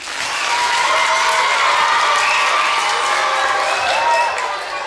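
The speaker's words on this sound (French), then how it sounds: "Vous pouvez l'applaudir." Audience applause with cheering at a fables show, a dense, loud wash of clapping with excited voices that holds steady, then eases slightly at the end.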